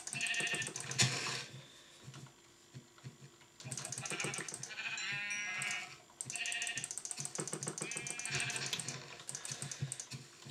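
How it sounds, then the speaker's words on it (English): Sheep in the Minecraft video game bleat in several bursts of varying loudness, with quieter gaps between calls and faint clicking in the background. "Can you get food from sheep?"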